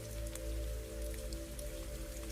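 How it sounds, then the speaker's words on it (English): Gentle rain falls steadily through the night beyond cottage windows onto a meadow, a soft, continuous hiss of drops over a faint low hum, with no one speaking. "And beyond the cottage windows, the rain continues softly through the night"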